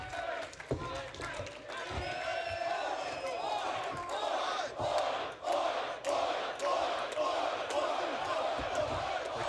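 Wrestling crowd at a TNA match roars and chants for Ospreay in a sustained, dense wall of cheering, with shouts and thuds from the ring cutting through and commentary running underneath.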